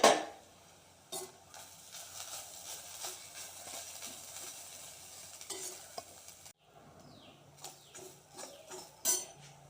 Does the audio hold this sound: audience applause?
no